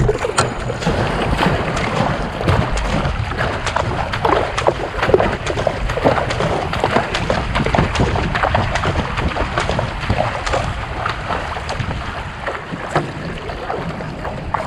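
Steady splashing and churning water with wind buffeting the microphone as canoes are paddled hard at a race start, continuous and fairly loud throughout.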